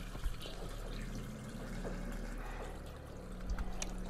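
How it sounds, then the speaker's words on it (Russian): A toilet flushes in a restroom in the video game The Coma: Cutting Class, with water rushing and pouring steadily at moderate volume and no voices over it. "Только еще в этом сортире мы не смывали"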